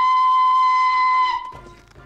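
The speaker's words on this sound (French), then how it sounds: "Il décide alors de siffler de toutes ses forces pour faire reculer l'animal" Thomas the Tank Engine, a steam locomotive, blows its whistle loudly in one long, steady, piercing blast that cuts off abruptly, followed by a brief low rumble.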